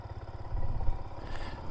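Small Yamaha XSR 125 motorcycle engine running nearby, a steady low throbbing rumble that swells slightly midway, with no voices over it.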